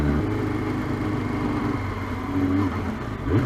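A sportsbike motorcycle engine revs and runs steadily in London traffic, a loud continuous mid-pitched drone with slight rises in pitch, no talking over it.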